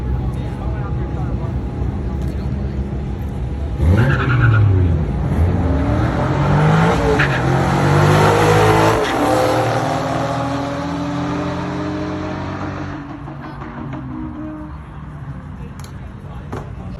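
An Infiniti Q60 3.0T races a Dodge Scat Pack, heard as a loud continuous engine roar with rising and sweeping pitch as the cars accelerate, mixed with road and wind rush throughout.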